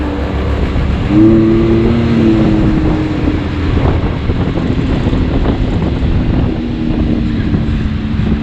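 A Can-Am Maverick X3 X DS Turbo RR side-by-side, rated around 195 horsepower and driven in high range, drones loudly and steadily with its engine note rising briefly, mixed with heavy wind buffeting on the microphone.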